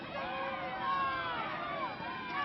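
A softball stadium crowd, heard from a distance, murmurs and groans after a strike call in a college game between Oklahoma and Iowa State. A broad, steady wash of voices swells a little midway.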